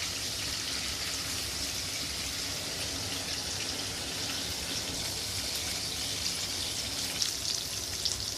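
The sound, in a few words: squid frying in oil for squid biryani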